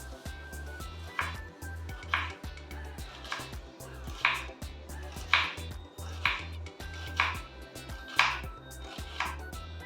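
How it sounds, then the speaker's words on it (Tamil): Onion being cut on a board for raita alongside a chicken biryani, a steady run of close, sharp knife chops in an even rhythm, with no talking. "அதுக்குள்ள நம்ம ரைத்தாவுக்கு வெங்காயம் கட் பண்ணிடலாம்"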